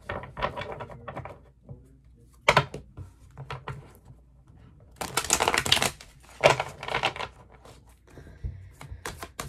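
Playing cards are shuffled in several quick riffling bursts, crisp papery clatters separated by short pauses, close up.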